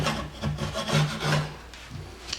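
Hand scraping across the wooden top of an old coffee table, several rough rasping strokes in a quick back-and-forth rhythm, close and fairly loud with no talk.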